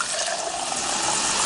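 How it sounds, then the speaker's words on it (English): Tap water running from a faucet into a cup, a close, steady splashing rush with a slight rising fill tone, heard alone without voices. "they fill it up with tap water,"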